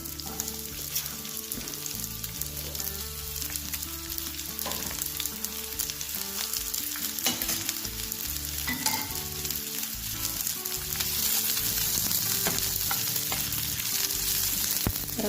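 Onion tossed into hot oil with garlic, ginger and green chili, frying in a steady loud sizzle with scraping stirs and occasional utensil knocks throughout.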